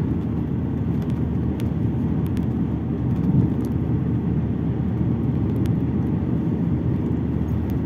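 An Alfa Romeo 166's engine gives a steady low hum and rumble, close and continuous, with no voices.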